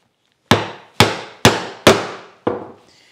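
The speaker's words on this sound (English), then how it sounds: "And as I chop, the bevel pushes the chisel this way," Wooden mallet driving a chisel to chop a mortise in wood: five sharp, resonant knocks about half a second apart, close and loud, each ringing briefly before the next strike.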